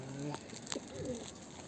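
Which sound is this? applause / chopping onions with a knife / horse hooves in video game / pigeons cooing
pigeons cooing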